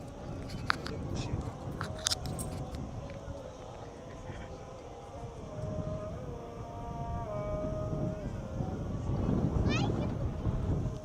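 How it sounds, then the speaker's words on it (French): Heavy wind in Algiers buffets the microphone with a constant low rumble and gusty noise, while a person talks faintly underneath. "Il y a beaucoup de vent là où on est, franchement, c'est incroyable."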